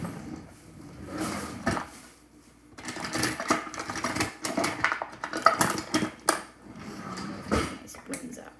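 Metal spoons clink and rattle in a home kitchen while salmon cakes are being made, a series of irregular handling taps and knocks with quieter gaps, under a speaking voice.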